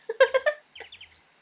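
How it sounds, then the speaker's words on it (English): A bird in the video game Phoenix Wright: Ace Attorney chirps in two quick bursts of bright, sweeping tweets, with a short pause between them, crisp and close against silence. "that bird is back."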